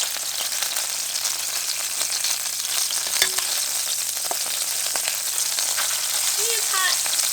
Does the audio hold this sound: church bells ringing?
no